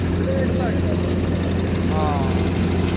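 A tractor-driven straw-making machine engine revs up steadily and loudly, with a continuous low mechanical drone and brief voices calling out over it.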